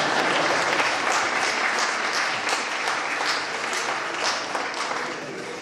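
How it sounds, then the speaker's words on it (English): An audience at the Ooty Literary Festival applauds in a hall. The clapping is dense and sustained and stays steady at close range for the whole stretch, with a faint murmur of voices underneath. "Clap properly then."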